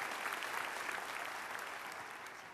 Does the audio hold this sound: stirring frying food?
no